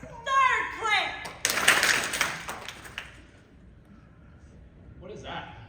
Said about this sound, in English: Third clap!